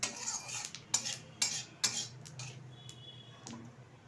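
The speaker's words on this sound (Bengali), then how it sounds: "ভালোভাবে ফোড়নটা ভেজে নেব" Whole cumin and garam masala tempering in hot oil, heard as a run of sharp metal spatula taps and scrapes against the pan over a faint sizzle, with several distinct clinks in quick succession.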